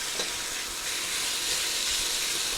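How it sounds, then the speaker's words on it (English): Pork sizzling as it sears in a pan for chili verde, a steady broadband hiss running without a break throughout, fairly close and loud, with no talk. "Just going to let everything sear."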